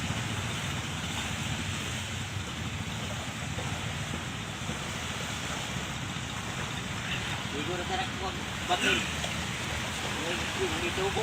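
Sea surf rolls onto a beach at Tagawisan, Mati City, Davao Oriental, during a tsunami, a steady wash of breaking waves under wind, with someone speaking faintly over it.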